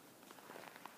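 Squeaky crunching footsteps on cold, dry snow in deep winter frost, a few soft steps close by, quiet and without talk.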